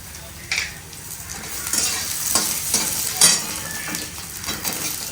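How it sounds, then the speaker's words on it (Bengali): Chana dal and peanuts fry in a pan, a loud close sizzle broken by stirring scrapes and occasional utensil clinks against the metal, with no talking. "আঁচটা কমিয়ে একটু ভালো করে ভাজবো।"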